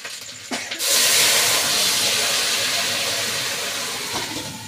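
Ginger-garlic paste dropped into hot oil with onion and green chili for a shol fish curry, bursting into a loud, steady sizzle that starts abruptly and slowly eases.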